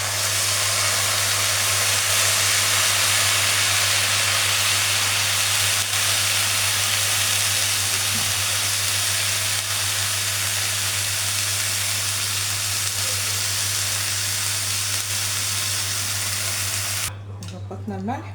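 Water boils hard for Egyptian koshari, a steady loud rushing hiss and bubble that holds unbroken for a long stretch before a brief clatter near the end.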